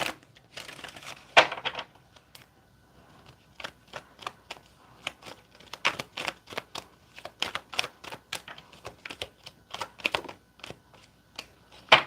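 Tarot cards being shuffled close up, a run of quick crisp riffling and snapping bursts in an irregular rhythm over a quiet background, without talk.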